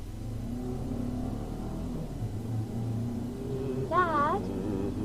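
A car engine idles and rumbles steadily in a radio drama, a low continuous drone with a brief revving swell near the end, heard beneath speech.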